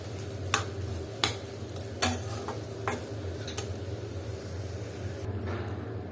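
Cooked prawn bhuna with coriander leaves being spooned from a pan into a serving bowl: a handful of distinct metallic scrapes and taps spaced over a low steady background, close by and with no talk.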